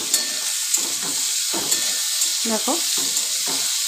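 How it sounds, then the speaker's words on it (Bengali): Sliced vegetables frying in oil for chicken stew, a continuous bright sizzle with soft stirring scrapes and a brief spoken word over it. "একসঙ্গে দিয়ে এবার এগুলোকেও ভাজা করব।"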